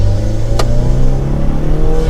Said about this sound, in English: this one has an aftermarket intake on it, so you can hear that turbo a lot